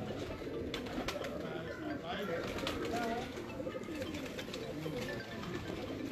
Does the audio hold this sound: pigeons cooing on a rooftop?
yes